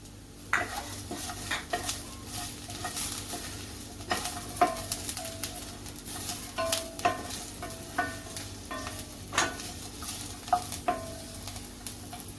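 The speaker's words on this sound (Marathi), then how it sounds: "आता आपण धणे आणि जिरे घेतलेले आहे ते सुद्धा याच्यामध्ये टाकूया भाजायला चांगले गरम करून घ्यायचे आहेत" Coriander and cumin seeds dry roasted in a pan, stirred with a utensil that clinks and scrapes against the metal in frequent irregular strokes over a faint sizzle, close and fairly quiet, with no voices.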